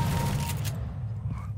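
A shotgun blast in Counter-Strike: Global Offensive during an Arms Race match, a loud burst at the start that rings briefly before fading into low, rumbling game ambience.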